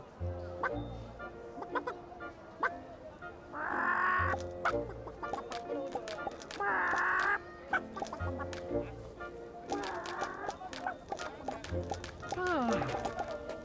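A hen clucks in short bursts, alternating with people talking; the clucks come in several separate runs, moderately close.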